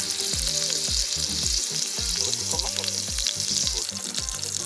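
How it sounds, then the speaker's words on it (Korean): Hairtail fish frying in a hot pan gives a loud, constant sizzle and crackle, with stirring or shifting scrapes breaking through throughout. "지금 막 갈치가 막 이렇게 막샥 소리 들리죠?"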